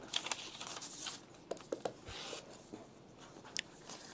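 A fabric rotary cutter rough-cutting fabric for paper piecing, heard as soft scratchy rolling and crinkling strokes with a few small taps and rustles, quiet and close, with no talking.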